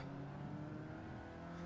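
Race car engine in a racing video game, a faint steady drone with tonal whine holding and slightly shifting pitch, sustained throughout the short stretch.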